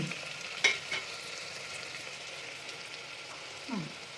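Curry leaves and onion fry in hot oil for pav bhaji, a faint steady sizzle with a couple of brief sharp crackles and spatters, quiet throughout.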